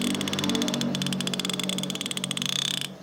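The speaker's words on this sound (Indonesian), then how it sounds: "Nih clickernya tuh bunyinya seperti ini." A fishing reel's clicker, on a Seasir DC Round Pro baitcasting reel, gives a fast, steady run of close, sharp ratcheting clicks for about three seconds, then stops abruptly.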